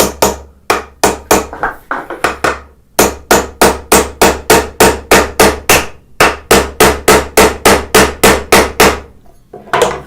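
Sharp, loud chisel taps cut half-blind dovetails in wood, a close and steady run of about thirty evenly spaced strikes in quick bursts with brief pauses, no voices.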